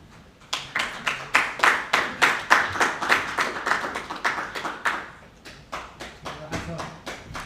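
Individual handclaps ring out at a graduation ceremony, distinct and rhythmic like a small group clapping in time, fairly close, with a short dip in intensity before it resumes.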